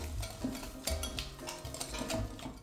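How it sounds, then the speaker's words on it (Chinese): A hand whisk beats two eggs with 80 grams of white sugar in a bowl, its quick rhythmic strokes clicking and tapping against the sides, quiet and close, with no voices. "然后取来一个蛋抽，把白糖混合到基本溶解"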